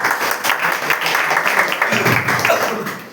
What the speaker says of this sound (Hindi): देखिए आपसे अलग इनके लिए जोरदार ताली हो जाए